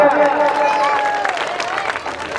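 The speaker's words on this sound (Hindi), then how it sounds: "एक जोरदार तालियां" Crowd applause at a Bal Ram Leela stage event welcoming a guest, Shri Rajesh, with dense, steady clapping and cheering over tonal music or voices for the whole stretch.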